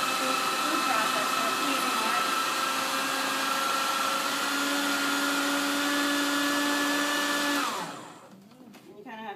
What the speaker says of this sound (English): So I'll just start this. Food processor.